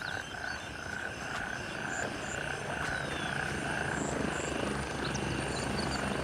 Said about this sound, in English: the trees reacting to the chopper blades as it comes in